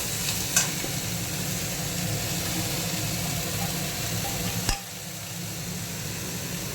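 Banana stem tossed into fried onions in a pan and stir-fried, giving a steady close sizzle with a brief clatter near the start and a sharper knock just before the frying noise drops back.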